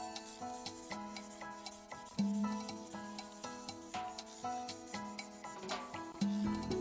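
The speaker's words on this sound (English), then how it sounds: "I'll just go over the paint, primer I mean, just sanding it all down" Sandpaper rubbing over primer on a plastic model car body of a 1968 Corvair, a close series of short rhythmic scraping strokes, steady and moderately loud.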